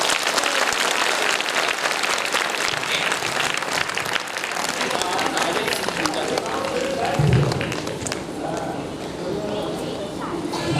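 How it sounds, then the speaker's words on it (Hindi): Crowd applause at a birthday cake-cutting ceremony in a hall, with a loud, continuous wash of clapping lasting several seconds and voices mixed in beneath it. "इसलिए आप बहुत जोरदार तालियां बजाएं एक बार।"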